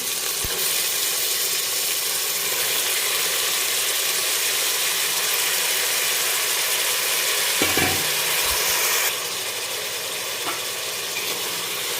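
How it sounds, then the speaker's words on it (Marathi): Mutton stir-fried with browned onions in a pan over high heat, a dense continuous sizzle with scraping spatula strokes and a few clinks, easing slightly toward the end. "तर आता लगेच आपण याच्यामध्ये मटण टाकून देणार आहे"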